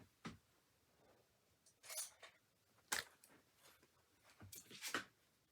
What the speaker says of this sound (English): I'm going to use my scissors and cut off these long tips.